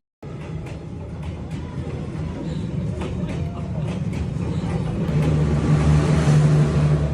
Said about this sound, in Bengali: ক্যাফি শপের ঠিক মাঝখান দিয়ে ট্রেন চলাচল করে